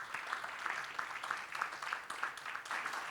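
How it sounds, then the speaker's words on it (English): Faint, light applause at an Oxfam conference, a thin patter of claps pulsing at a steady rhythm. "colleagues, let's give Fatih another round of applause"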